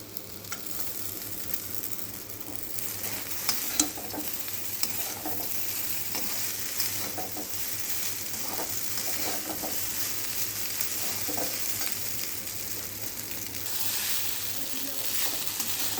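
Chow mein is stir-fried in a pan, with a continuous sizzle and repeated scraping and tossing clatters from the spatula throughout.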